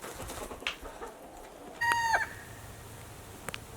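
Icelandic chickens outdoors near a topsoil pile, giving a few scattered clucks and one short, louder squawking call midway, with faint background noise.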